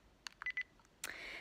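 A handheld dictaphone gives a few short electronic beeps and tones, close and quiet, followed by a brief hiss-like noise and no talking.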